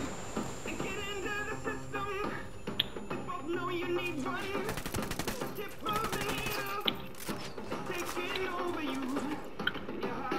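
Gunfire in the video game Ghost Recon Wildlands, rapid crackling shots and bursts scattered over a busy game soundtrack with music and effects, moderately loud and mixed with other in-game noise.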